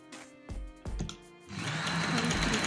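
A few short clicks and thumps, then a sewing machine starts up and hums steadily while stitching a collar with buckram.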